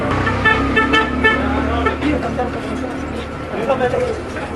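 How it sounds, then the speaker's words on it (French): Busy street ambience in a Lebanese souk with tuk-tuk engines idling and short horn toots sounding now and then, while voices chatter close by. "Il y a beaucoup de tuk-tuk qui passent dans le souk et ça klaxonne beaucoup."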